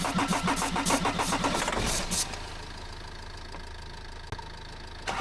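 A car engine cranks in a fast rhythmic churn for about two seconds, then catches and settles into a steady idle, heard close and fairly loud with no talking.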